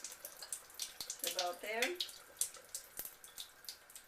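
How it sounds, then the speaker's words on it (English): Water runs through a Kangen water ionizer machine, a soft trickling and splashing stream under a brief spoken voice, fairly quiet and continuous. "just let water run through it again before we turn on the power"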